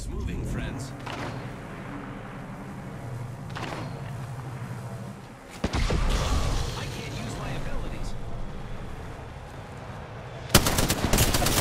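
Gunfire in Apex Legends rattles through the opening seconds as dense rapid bursts, fading into a busier mix of game effects, followed by a sharp loud burst at the end.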